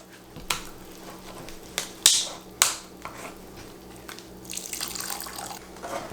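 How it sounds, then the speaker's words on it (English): Beef stock is poured into a stew pot in a home kitchen, with a few sharp clanks early on, then a sloshing liquid pour building toward the end. "from here, I'm putting in 32 ounces of beef stock."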